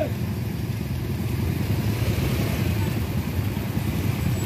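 A motorcycle climbs the steep Guci hill road, a constant loud engine drone close by with a dense rough low rumble throughout, no distinct talking.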